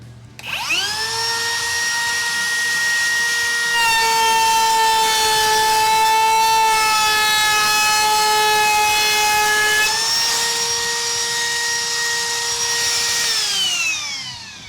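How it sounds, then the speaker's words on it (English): A high-pitched electric whine from a RIDGID OCTANE cordless router at high RPM holds steady for over ten seconds, rising at the start and winding down at the end, loud and close with no talking. "I'm going to let you hear this."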